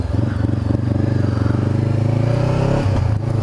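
Honda CBR500R motorcycle riding close, with a steady droning engine note and dense low rumble throughout, the pitch dipping briefly near the end.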